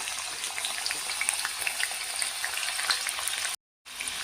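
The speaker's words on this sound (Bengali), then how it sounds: "আর এতটা পাঁচফোড়ন দিয়ে হালকা আঁচে নাড়াচাড়া করব" Garlic, dried chili and panch phoron fry in hot oil over low heat, making a dense, even crackling sizzle with small pops throughout. The sizzle cuts out for a moment near the end, then resumes.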